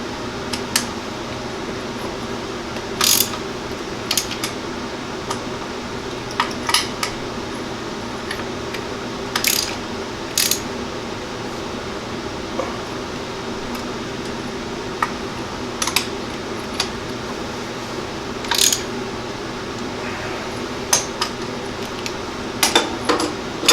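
A metal shaper cuts serrations into aluminum vise jaws, with sharp, regularly spaced clicks and clacks over a steady mechanical hum, each stroke a brief bright tick.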